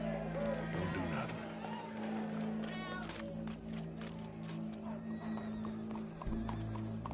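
Horse hooves clip-clop at a steady pace with a whinny in the Red Dead Redemption 2 video game, under talking voices and a low droning background hum.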